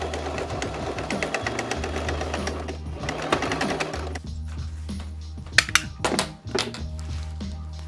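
A sewing machine stitches pockets onto a portable projector screen fabric, fast rhythmic needle clatter running in steady bursts with short pauses, then a few clicks and thunks of handling at the end.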